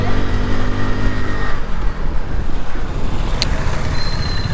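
A Hero Splendor motorcycle pushed hard through traffic gives a loud, close engine drone and wind rush, with other road vehicles passing and a brief horn-like tone partway through.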